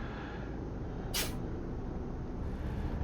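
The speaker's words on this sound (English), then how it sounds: "There's the air dryer, releasing the air." Truck air dryer in Euro Truck Simulator 2 giving one short sharp hiss of released air, about a quarter second long, over a steady low engine idle.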